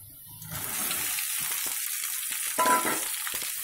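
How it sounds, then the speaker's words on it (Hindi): Chopped cluster beans (guar phali) hit a hot pan on a high gas flame and break into a steady, close, crackling sizzle after a brief quiet start; no one speaks. "जो कटी हुई बीन्स है हमारे पास, जो ग्वार की फली है, उसको इसके अंदर डालेंगे।"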